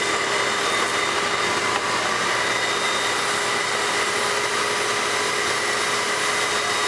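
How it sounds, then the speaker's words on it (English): A vacuum seeder runs while pelleted seed is spread over OASIS Horticubes, giving a steady, loud, even whooshing hum from start to finish with no change in pitch or level. "So what we do is turn the vacuum on and then spread our seed around."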